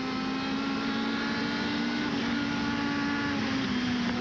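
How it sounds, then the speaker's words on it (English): A 1989 USAC midget race car engine droning loud and continuous at Indianapolis Raceway Park, its pitch rising and dipping slightly as the throttle works. "You can tell exactly how he's pushing the throttle by the sound of the engine"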